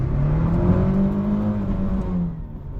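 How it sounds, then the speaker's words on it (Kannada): A 2006 Fiat Petra Adventure 1.6 petrol station wagon with manual gearbox launches, its engine note climbing in a loud, close revving drone before easing off near the end. "ಓ ಬಾ ವೀಲ್ ಸ್ಪಿನ್ನೇ ಆಗೋಯ್ತು"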